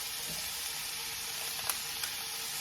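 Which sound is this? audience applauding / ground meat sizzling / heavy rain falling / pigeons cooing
ground meat sizzling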